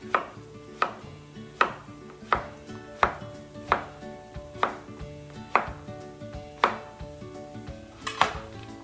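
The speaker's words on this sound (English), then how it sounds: "slice it into lengthwise, and then just chop it in like small cubes." A knife chops food into small cubes on a cutting board, about a dozen evenly spaced sharp thuds in a steady rhythm, close and distinct, with no talking.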